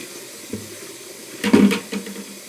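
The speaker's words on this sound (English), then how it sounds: "Dump the water in the sink." Water dumped from a bag into a sink while cleaning fired brass cases, a short gushing splash in the middle of a quiet stretch, close and fairly loud, with a smaller slosh just after.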